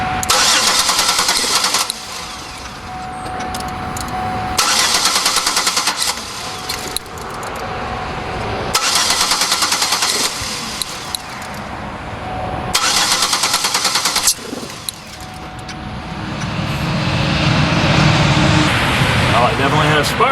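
A GM 3.8 V6 engine cranks in four repeated rhythmic bursts with quieter gaps between them, then catches and settles into a rough running rumble near the end, with someone speaking quietly.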